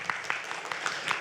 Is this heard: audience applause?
yes